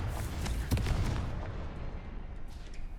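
A Confringo fire spell blasts in the Hogwarts Legacy video game, a loud, booming burst with a sharp crack near the start that rumbles and trails off over a few seconds.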